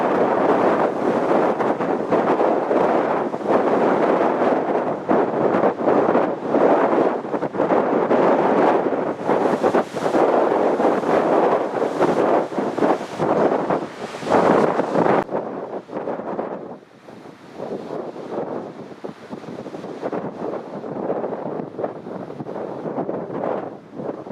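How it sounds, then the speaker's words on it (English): Wind blows through a forest in a steady, loud broadband rush with gusting surges that ease off into a softer, quieter roar in the final stretch. "Look at the wind."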